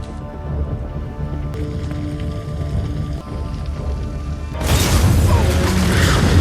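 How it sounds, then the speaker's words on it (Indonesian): A massive car explosion in a spy thriller film erupts abruptly after a tense stretch of music and rumbling, a loud broadband blast that fills the scene and lingers as a dense roar of debris and crackle. "lalu meledakkan mobilnya dengan ledakan yang sangat dahsyat sob."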